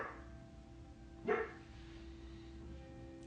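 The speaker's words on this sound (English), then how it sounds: "can you stop barking?" A single short dog bark rises once over a steady low background hum, followed by quiet.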